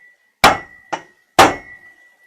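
Three sharp metal strikes of a hammer tapping a small drill bit to mark a pilot hole during work on a GMC gas tank cross member, two heavy blows around a lighter one, with a steady ringing tone throughout.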